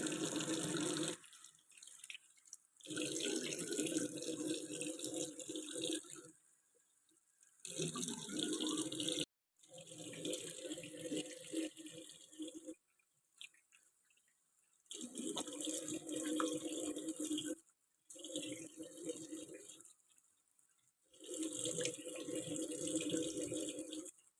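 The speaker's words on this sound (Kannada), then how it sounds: "ಇದನ್ನು ನೀಟಾಗಿ ವಾಶ್ ಮಾಡಬೇಕು ನೀಟಾಗಿ ವಾಶ್ ಮಾಡೋಣ ನೋಡಿ" Soapnut pods rinsed under a running kitchen tap, water gushing and splashing in long bursts that stop and restart several times, close and steady with no speech.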